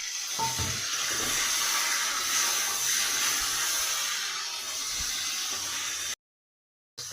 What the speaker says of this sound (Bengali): এবার আমি ওই চিংড়ি মাছটা ওই তেলের মধ্যে ভেজে নিচ্ছি বেশি অল্প তেল